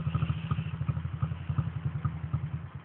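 A 2003 Honda XR50 mini dirt bike engine putters in a quick, even, throbbing rhythm at low volume, heard from a short distance with no one speaking.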